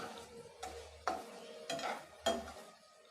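A pan of spicy bitter gourd fry masala being stirred, giving three or four scraping, clattering strokes of a spoon against the pan at a steady pace over a faint sizzle.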